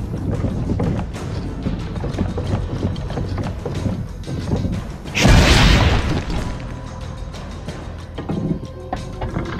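A single deep cannon boom in Assassin's Creed Brotherhood bursts out midway through a stretch of clanking mechanical rattles and creaks, then the clatter continues.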